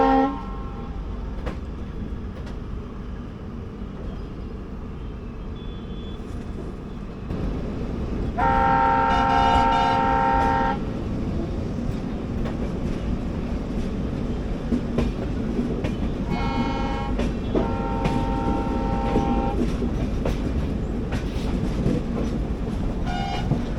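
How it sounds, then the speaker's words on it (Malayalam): The 16217 Mysuru-Shirdi Express rumbles and clatters steadily on double track while joining the main line, with a loud sustained horn blast partway through and a second shorter horn sounding later. "നമ്മുടെ ട്രെയിൻ ജസ്റ്റ് മെയിൻ ലൈനിലോട്ട് ജോയിൻ ചെയ്യുന്ന കാണാം"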